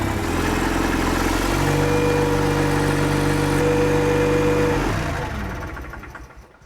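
An engine runs steadily with a slight rise in throttle, a loud continuous drone with a steady tonal hum that drops away as it winds down near the end.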